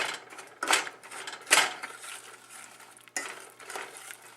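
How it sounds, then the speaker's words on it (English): A spoon scrapes and knocks in a pan as packed brown sugar is stirred into apple pie filling, giving soft irregular scrapes with a few louder clatters and no talk. "break it up and stir it in"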